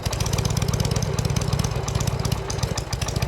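A 1981 Harley-Davidson FXS Lowrider, original paint, idles as it warms up, its V-twin thumping in a loud, steady, slightly uneven lope close by with no voices.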